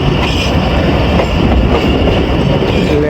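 The Jaffar Express passes Dhonkal railway station at speed, producing a loud, continuous rumble and roar of rolling wheels and carriages with faint clacking, filling the whole stretch without any voices.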